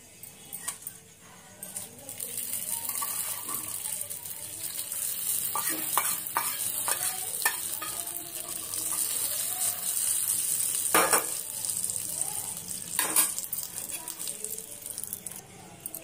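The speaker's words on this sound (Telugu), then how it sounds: "పోపు వేగిపోయిందండి. ఇప్పుడు తిరగమూత పెట్టుకుందాం మనం." Tempering spices for tomato chutney sizzle and crackle in hot oil in a pan, a continuous hiss with sharp pops and stirring clicks, close and fairly loud throughout, with a few faint sounds like a voice.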